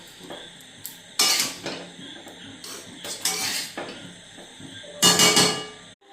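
Paneer fried rice stirred in a pan, a metal spoon scraping and clanking against the pan in uneven bursts, with a few loud clattering strikes standing out from quieter scraping.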